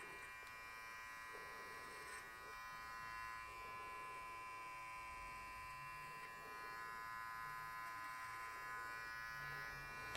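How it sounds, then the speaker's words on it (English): Electric hair clipper buzzing steadily while trimming hair over a comb during a basic men's haircut, a close, continuous hum with slight rises and dips as the blades move through the hair. "let's just trim it over comb"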